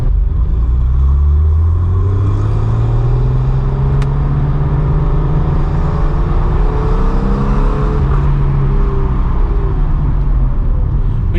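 A Porsche 993 C4 engine fitted with aftermarket pipes and with its catalytic converters removed gives a loud, continuous rumbling drone from inside the car while driving, its pitch rising and falling gently with throttle.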